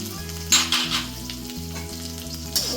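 Onions fry for noodles in a pan, a steady close sizzle broken by a few brief louder crackling bursts of stirring, alone without voices.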